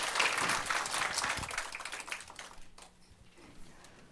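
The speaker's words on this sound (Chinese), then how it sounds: "我们掌声欢迎我们的孙真神父。" Audience applause welcoming a priest to the podium at an academic Catholic symposium, a dense burst of many hands clapping at once that thins and fades over a few seconds.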